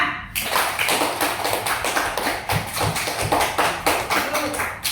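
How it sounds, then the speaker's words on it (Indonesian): A primary-school class applauds a student group with rhythmic, repeated clapping that stays fairly loud throughout, with voices mixed in. "beri tepuk tangan untuk kelompok 2"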